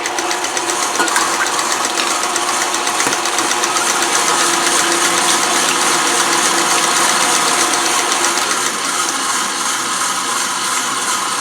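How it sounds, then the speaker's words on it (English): An electric mixer whips eggs in a bowl for blueberry banana nut bread, a loud, steady motor whir with a busy rattling texture that holds constant throughout, with no talk. "we're going to start whipping our eggs."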